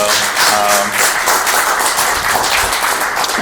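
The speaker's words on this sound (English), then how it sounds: "big round of applause here for our 3 panelists" A big round of audience applause for three panelists at the close of a growth and scale panel discussion, dense steady clapping filling the room throughout, loud and close, with a brief voice at the start.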